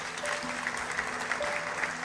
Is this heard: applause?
yes